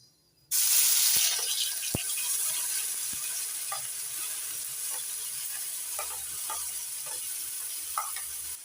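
Carrot paste sizzles and fries in hot ghee in a wok, a loud steady hiss starting abruptly and continuing throughout, with faint stirring scrapes and clicks underneath.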